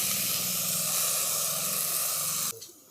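Washed drumstick leaves and other greens dropped into a hot wok, producing a loud, steady hiss that cuts off abruptly near the end and leaves a softer, fading sizzle.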